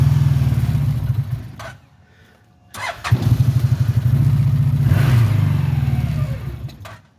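A scooter engine starting and running outdoors on a farm field: a puttering idle, a brief stall into near silence, then a restart with a steady throbbing run near and loud until it cuts at the end.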